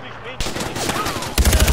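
Gunfire in the video game Far Cry 4 comes as rapid automatic bursts, with a heavier, louder volley in the final stretch, all close and dense.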